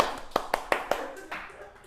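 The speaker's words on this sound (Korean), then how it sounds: "정답! 박수!" A few sharp hand claps, about four evenly spaced strikes followed by fainter ones, ring out in a room during a lively Korean high-school chemistry lesson, with voices around them.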